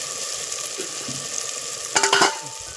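Food sizzles steadily in a hot frying pan, then a short burst of louder crackling and hissing as a tamarind and chili liquid mix hits the oil, while cooking fish curry.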